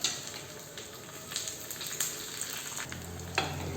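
Curry leaves crackle and sizzle sharply in hot oil for a village-style brinjal curry, a steady frying hiss with brief pops and a stir near the end.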